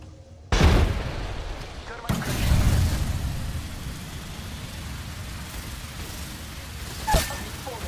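A heavy grenade blast in the Apex Legends video game bursts in suddenly and loud, followed by a second rumbling boom and a fading roar, with a brief crack near the end.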